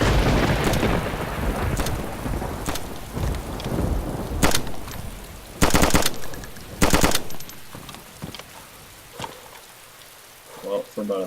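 Test-firing a gun in DayZ: sharp, loud shots at irregular intervals, some in quick pairs, over a steady rain-like hiss that fades toward the end.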